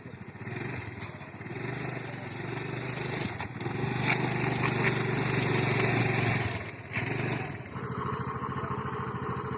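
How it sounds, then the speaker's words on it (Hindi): A scooty scooter engine runs steadily and close, its throttle opened into a loud, sustained rev with a brief dip before picking up again; no talking. "अब इसको रेस दो।"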